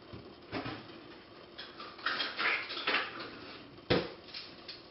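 Metal kitchen utensils clatter and clink as a measuring spoon is fetched during biscuit baking, a few rattling bursts close by, with one sharper clank near the end.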